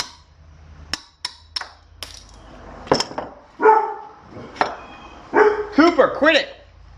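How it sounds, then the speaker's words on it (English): Cooper the dog barks repeatedly at a pile of junk engine parts, first a few sharp isolated woofs, then louder clustered barks and yips near the end, with a person talking among them. "Such a good guard dog."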